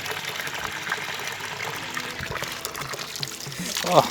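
Steady splashing of clean mountain-stream water gushing from a pipe in Eravikulam National Park, Munnar, heard close and continuous, with a brief louder burst near the end and no voices.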